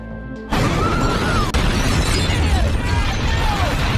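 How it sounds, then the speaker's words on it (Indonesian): A sudden, loud blast bursts in after a brief lull, then gives way to a sustained roaring rumble with faint whistling tones drifting over it. "Stan dan pasukannya tewas, dari ledakan bom yang dirakit oleh Leon"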